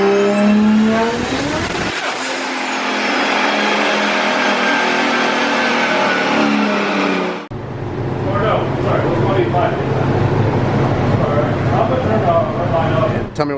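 A stroker 2JZ engine in a Nissan S15 roars on a dyno, rising steadily in pitch to a loud high-rev wail before cutting off abruptly, then idling roughly with people talking over it.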